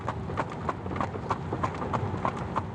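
Horse hooves clip-clop in an even, rapid rhythm of about three beats per second, close and steady over a constant background rumble.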